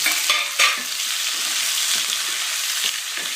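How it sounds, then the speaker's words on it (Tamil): Vegetables for Srirangam-style red and green rice sauté in a hot pan, a steady close sizzle running throughout with occasional scrapes and stirring clatter. "சும்மா போட்டு வதக்குங்க."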